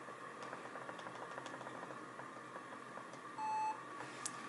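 A single short electronic computer startup beep, clean and steady, sounding over a faint machine hum with scattered soft clicks.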